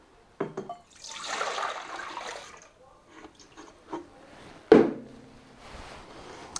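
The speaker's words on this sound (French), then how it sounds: "normalement, vous mettez 1 litre de lait, et il faut qu'il soit froid" Cold milk, one litre, poured for a homemade ice-cream bar mix, giving a brief liquid splash and trickle with a few soft knocks and a short sharp clunk near the end.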